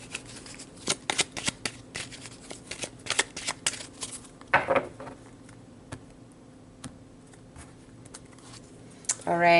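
Tarot cards shuffled by hand in quick bursts of crisp riffling and tapping, close and clear, with a brief voice near the end.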